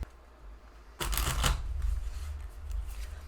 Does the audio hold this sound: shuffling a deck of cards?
yes